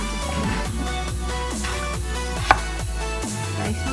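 Onion being chopped with a knife for vegan pho, a steady run of close, crisp blade knocks on a board, with one sharper louder strike midway, no voices.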